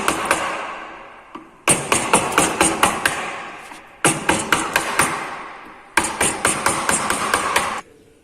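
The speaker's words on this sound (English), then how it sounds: "This is called chisel and this is mallet. By using this mallet, I am going to remove this" A metal chisel struck with a mallet in an engineering workshop, paring away excess material from a workpiece: three bursts of sharp, rapid, evenly spaced close blows, each run of strikes separated by brief pauses.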